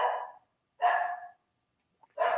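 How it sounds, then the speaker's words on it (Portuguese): A dog barks three times, each a loud, drawn-out bark, with clear silent gaps between them. The barking sounds fairly near and stands alone, with no talking over it. "Provavelmente vocês estão ouvindo o cachorro latir"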